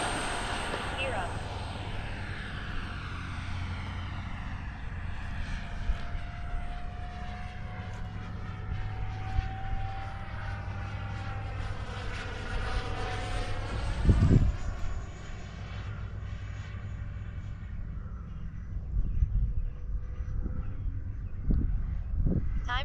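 An F-14 jet makes a half-throttle pass, a long, loud, rising and falling roar with a sweeping pitch shift as it goes by. Wind buffets the microphone and voices are heard now and then.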